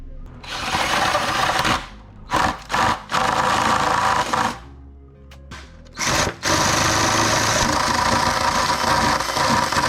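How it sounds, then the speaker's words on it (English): A power drill fitted with a 5/8 bit boring holes for a DIY kayak cart: a loud, steady whirring drone in long runs, broken by short stops and quick restarts, close by. "All right, holes are drilled."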